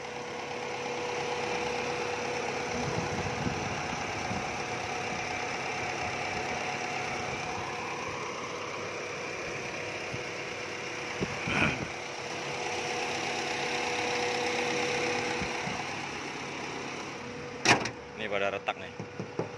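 Used car engine idling at a vehicle auction lot, a steady low rumble running throughout with faint knocks and clatter near the end.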